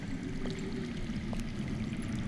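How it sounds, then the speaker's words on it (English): Water flowing underground in the Game of Thrones Telltale video game, a steady low rushing gurgle that holds constant throughout with no voices, giving a muffled, continuous stream-like wash. "I hear water. From underground."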